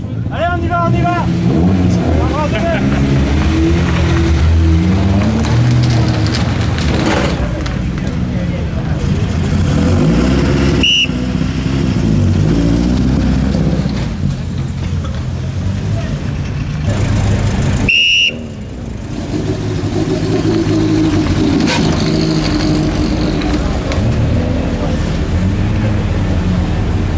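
A BMW 2002 Ti rally car at the Rallye Monte Carlo Historique revs hard and pulls away, its loud engine droning continuously close by, with announcer talk and a brief whistle partway through.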